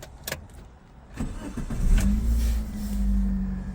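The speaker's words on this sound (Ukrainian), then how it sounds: "Автомобіль без проблем запускається." A 2008 Chery QQ with a manual gearbox cranks over with a few clicks and a short starter whir, then catches. Its small engine settles into a steady, close idle hum.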